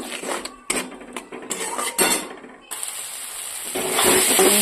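Metal scraping and clinking of a spoon working turmeric, salt and masala for a fish dish around a pan, in uneven strokes, ending in a steadier hiss as the mixture cooks; no voices.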